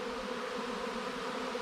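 A dense swarm of honeybees drones steadily as it pours into a hive box inside a shed, a continuous close, loud buzzing with no break.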